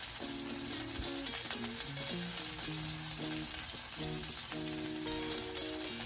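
Bacon frying on a Blackstone electric griddle, a steady close sizzle running the whole time with no speech over it, while faint tonal music or hum sits underneath.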